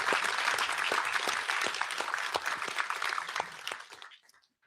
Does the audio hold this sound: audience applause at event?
yes